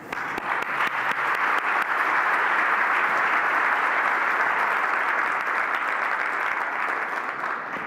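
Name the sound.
audience applause welcoming keynote speaker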